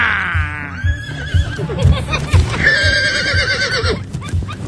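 A horse neighs with a long, wavering whinny at the start, then a second call rises near the end, over a low rumble of movement and light background noise.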